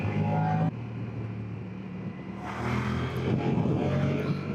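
A 2025 Moto Guzzi Stelvio motorcycle engine runs loud and close, dropping briefly then climbing again as it revs up and accelerates with a rough, throbbing tone.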